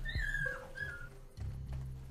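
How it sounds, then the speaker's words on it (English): A little dog whines in a high pitch in the western video game Desperados 3, with several thin rising and falling cries over low background rumble. "Little dog's having a very high-pitched whine."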